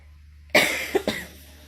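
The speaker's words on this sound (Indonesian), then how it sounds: "mohon maaf ya saya batuk." A person gives a couple of close coughs, a sharp burst followed by two smaller hacks, in an otherwise quiet room.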